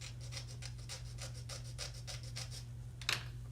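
A square rasp scuffing the plastic parts of an HG Zaku II model kit: quiet, regular back-and-forth filing strokes, about a dozen in a steady rhythm, with a sharper scrape near the end.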